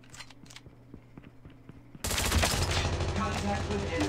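Sustained rapid automatic fire from a GKS in Call of Duty Mobile, loud and continuous after a quieter stretch of scattered shots and clicks, close and dense.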